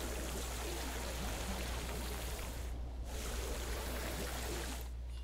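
Water placed in Jurassic World Evolution produces a steady rushing, trickling stream sound, continuous and fairly faint with no breaks.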